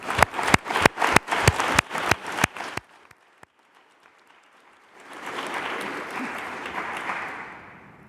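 Claps at an Ottawa Board of Health meeting honouring Dr. Vera Etches's appointment: a few loud, distinct hand claps in quick rhythm, then a short hush, then a softer, diffuse wash of applause from the room.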